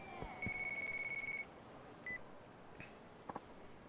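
Flip phone in the video game Yakuza 5 giving off electronic ringing tones, a long steady beep followed by shorter chirps and blips, faint over a soft game background.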